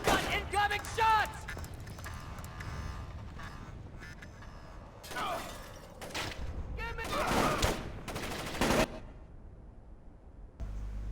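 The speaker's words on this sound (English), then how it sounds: "We've got incoming shots!" Gunfire in Splinter Cell: Chaos Theory comes as scattered bursts and volleys at moderate distance, some sharp and some muffled, between stretches of quieter game ambience, with someone talking over parts of it.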